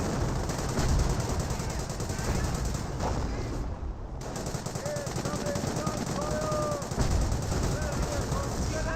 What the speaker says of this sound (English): Taking heavy MG fire.